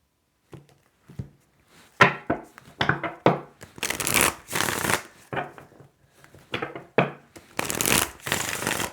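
A deck of tarot cards is shuffled up close, loud riffling bursts and soft slaps coming in quick irregular bunches with brief pauses between them.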